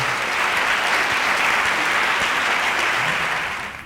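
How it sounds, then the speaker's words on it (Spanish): Sustained audience applause at a Spanish-language talk on neurocriminology, a dense even roar of many hands clapping that holds steady throughout and tapers slightly at the end, with no talking over it. "Le damos un aplauso, siempre se lo ha ganado."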